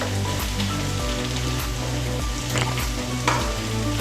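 Masala for a chicken curry fries in a pan with a steady, close sizzle and crackle, while a spoon stirs and scrapes through it every so often.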